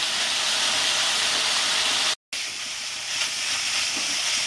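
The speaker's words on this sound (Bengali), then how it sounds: "গ্যাসটা ফুল ফ্লেমে দিয়ে আমার মাছটাকে ভাজতে হবে" Lote fish, Bombay duck, frying on full flame in a Bengali kitchen, giving off a loud, steady broadband hiss and sizzle that runs throughout, broken by one brief gap of silence near the middle.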